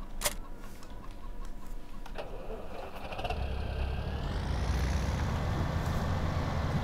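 A Case tractor engine in Farming Simulator 17 cranks and catches, then settles into a steady, fairly loud idle rumble that continues to the end after a few ticking clicks at the start.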